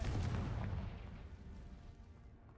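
A single Confringo fire spell blast in a wizarding video game lands as a heavy booming impact, loud at the start and rolling off into a long fading rumble.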